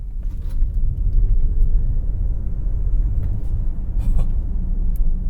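A 2023 Mercedes-Benz EQC 400 electric SUV pulls away gently in Sport mode, giving a low, steady road and tyre rumble inside the cabin with a faint whine and no engine note.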